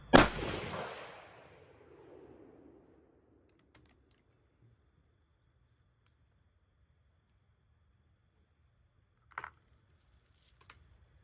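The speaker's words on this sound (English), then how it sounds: "Let's try another shot here." Single loud rifle shot from a 7x30 single-shot Contender during accuracy testing, a sharp close crack with a long rolling echo fading over about two seconds, then near silence with a couple of faint clicks.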